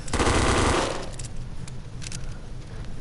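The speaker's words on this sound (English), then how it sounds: "These hunting rifle shots were pretty atrocious." Rapid gunfire from a hunting rifle in a shooter video game, a loud dense burst over the first second, then trailing off into scattered fainter shots and background rumble.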